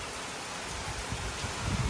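Heavy rain pouring steadily, a dense broadband hiss of falling water that swells slightly louder toward the end, with no voices.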